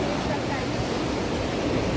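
Rough sea surf breaks continuously on the shore near a temple, a loud broad rushing wash mixed with wind buffeting close to the listener.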